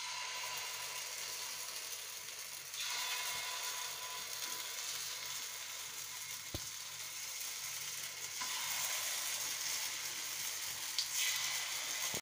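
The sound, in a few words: appe batter poured into hot appe pan, sizzling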